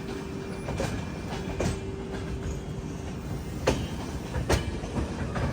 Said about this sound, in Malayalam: പനവേൽ റെയിൽവേ സ്റ്റേഷനിലേക്ക് ഇതാ നമ്മുടെ ട്രെയിൻ എത്തിക്കൊണ്ടിരിക്കുകയാണ്